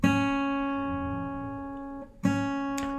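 Rest-stroke plucks on a fingerstyle guitar: two firm, ringing notes about two seconds apart, each sustaining with a slow fade, close and unaccompanied by speech.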